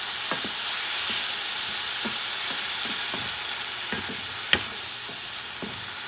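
A Puerto Rican salted cod stew with grated tomato and olives sizzles steadily in a pan while a utensil stirs it, the scrapes and knocks coming in an irregular rhythm over the constant hiss, with no voices.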